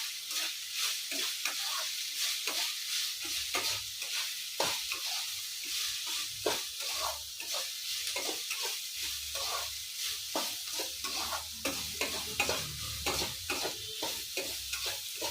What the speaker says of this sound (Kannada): ಈಗ ಸೋಯಾ ಚಂಕ್ಸ್ ಹಾಕ್ಕೊತಾ ಇದ್ದೀನಿ